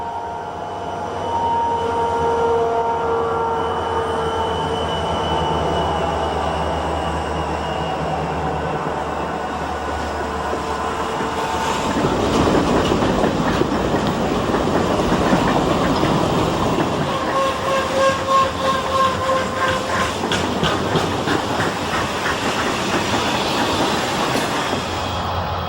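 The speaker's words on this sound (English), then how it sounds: "The first westbound train now passes through on the repaired number 2 track" A westbound train rolls past on a repaired track, a low rumble building into loud rhythmic clickety-clack and faint wheel squeal, with no talking.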